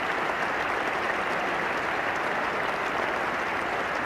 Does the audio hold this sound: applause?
yes